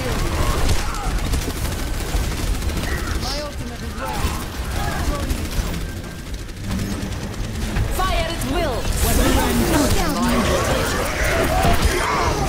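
Rapid gunfire and combat effects from a first-person shooter game fill the whole stretch, with bursts and impacts under an excited player's talk.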